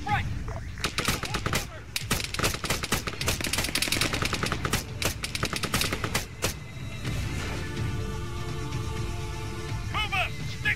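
Rapid bursts of machine gun fire in Arma 3 gameplay, loud and near, crackling in dense volleys through most of the stretch before easing into a steady rumble, with brief voice-like calls layered in.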